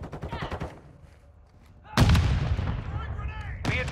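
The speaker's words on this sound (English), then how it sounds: "Throwing frag!" A frag grenade explodes with a loud, heavy boom in the video game Call of Duty: Modern Warfare II, followed by a rumbling tail and gunfire. A voice is heard briefly before the blast.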